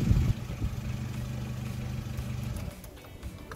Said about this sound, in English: With my foot on the clutch and the brake, you press it and the vehicle has started.